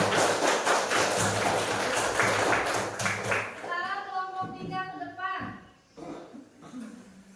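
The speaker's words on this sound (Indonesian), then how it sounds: "Tepuk tangan untuk kelompok 2." A fourth-grade Islamic school class claps for a student group in a busy burst of many small hands, then stops as children's voices and chatter take over.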